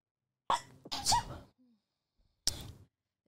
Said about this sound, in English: Weird sneeze.